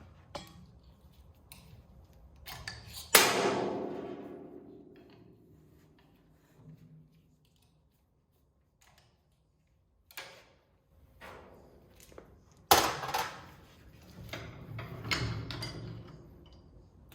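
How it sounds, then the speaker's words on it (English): Small tool pushing bearing collars, held in by O-rings, out of a 2022 Yamaha YZ250 KYB shock: close metallic clicks and taps, one sharp knock then a ringing clatter, scattered handling noises in a quiet workshop. "So we're gonna use a small tool, just kind of push them out."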